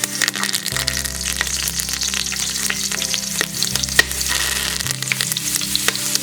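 Rampe (pandan leaf) dropped into hot coconut oil for a Sri Lankan vegetable biriyani, giving a steady, close crackling sizzle with bursts of popping and the clatter of stirring throughout, with a low background hum.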